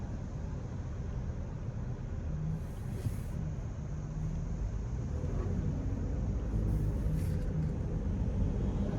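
Steady interior drone from a Honda Pilot Touring with a 3.5 V6 and front-wheel drive, a 2025 model, holding a low, continuous engine and road rumble throughout with no clear revving changes.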